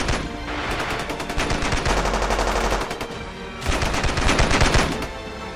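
A rapid volley of automatic gunfire is aimed at a monstrous creature, two long loud bursts of dense rattling shots separated by a brief lull, with no talking.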